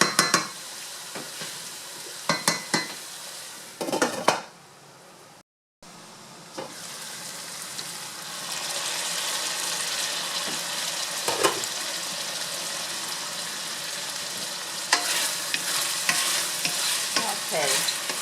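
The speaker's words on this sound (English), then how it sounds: "the stove is on low so that garlic, onion, ginger, and the pork can develop its flavor and cook together" Pork with garlic, onion and ginger frying gently in a pan over low heat, with a soft steady sizzle and repeated scraping and clacking of a utensil stirring, and no one speaking.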